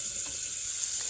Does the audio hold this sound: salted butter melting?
yes